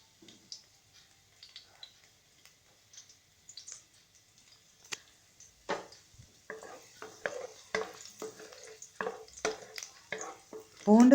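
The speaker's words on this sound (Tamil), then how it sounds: "பூண்டு கொஞ்சம் ஃப்ரை ஆகட்டும்." Chopped garlic fries in hot oil in a pan, giving soft, scattered crackles and clicks that grow busier partway through, close and fairly quiet, with no talk.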